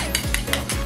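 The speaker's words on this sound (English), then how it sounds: "just stir it up nice until you get a nice orangish color" A spoon stirs mustard, ketchup and light mayonnaise in a bowl for a corn dog casserole, giving quick rhythmic scraping strokes roughly every fifth of a second, close and clear.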